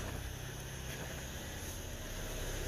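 A Fiat car engine idling smoothly, a steady low even drone with constant loudness throughout and no talk over it.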